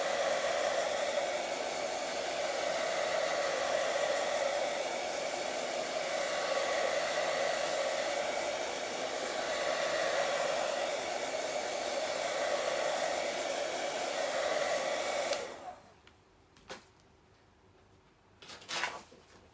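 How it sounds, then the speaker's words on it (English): A hair dryer blows steadily at close range with a constant whooshing roar for about fifteen seconds, then cuts off, leaving a few small clicks and handling noises. "Apply a bit of hairdryer."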